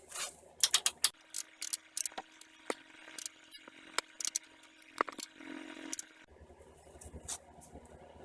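Ratchet tightening a 19 mm bolt head during a rear Brembo brake install on a 2005 Pontius GTO, heard as quick bursts of clicking across the clip with pauses between, close and fairly quiet in a tight space.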